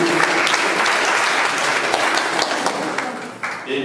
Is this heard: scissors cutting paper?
no